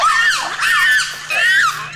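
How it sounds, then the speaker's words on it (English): Shrill, wavering chimpanzee victim screams rise and fall in repeated bursts, loud and close, with no other sounds around them. "So that's the victim scream."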